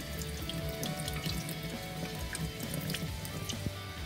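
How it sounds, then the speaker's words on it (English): Cold tap water runs over chorizo in a kitchen, a steady, quiet splashing stream with scattered drips and clinks. "All you have to do is you put on the cold water, yeah?"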